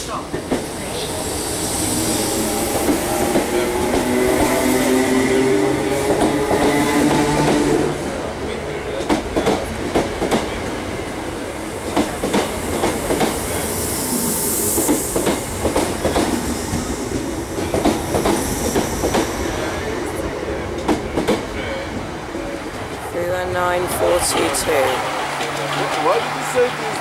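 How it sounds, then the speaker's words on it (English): A Class 319 train runs through a station without stopping, giving a loud sustained rumble with rhythmic clattering wheel beats and metallic rattles. A voice speaks briefly during the pass. "The approaching train is not scheduled to stop at this station."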